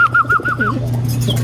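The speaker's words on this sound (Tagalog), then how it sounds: "Ayan na yung gift bird sa atin na bumalik sa atin." A homing pigeon coos at its loft, giving a soft rolling series of throaty, wavering coos up close, steady and clear with no talk.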